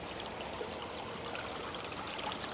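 Creek water flowing steadily over rocks, a continuous close-up babble and trickle with no break, heard at a spot strewn with scrap metal.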